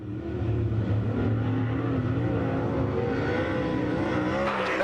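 Masterbuilt Monte Carlo race car with a Pro Power engine running at Kankakee, a steady loud engine drone that holds for nearly five seconds with a rising pitch, no talk over it.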